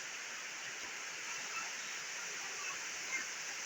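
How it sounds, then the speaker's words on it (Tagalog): Heavy rain falls steadily during typhoon Kristine, a dense, even hiss of downpour at moderate level with no break across the few seconds. "Lalong lumalakas ang ulan."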